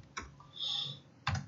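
Several crisp keystrokes on a computer keyboard, quiet and close, with a brief soft whir between the taps and no voices.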